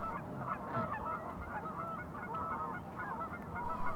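Canada geese honk together in a dense flock, a steady overlapping chorus of calls with no pause, at moderate volume and heard outdoors by ponds in late autumn.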